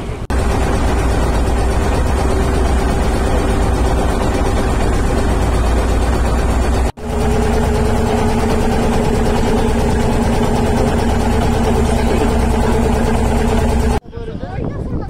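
A boat engine drones loud and steady while cruising through the Sundarbans toward Karamjal on a foggy morning, the engine holding a constant low hum that cuts out abruptly for a moment midway and again near the end.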